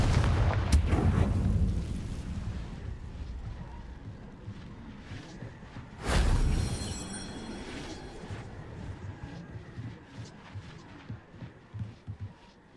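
Explosive blasts from the Confringo spell in the video game Hogwarts Legacy: a heavy rumbling boom at the start and a second loud burst midway, each trailing off into a low, throbbing rumble.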